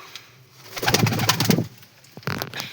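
A Lal Cheena breed pigeon coos up close in a soft, throaty burst, then gives a shorter coo a moment later against quiet surroundings.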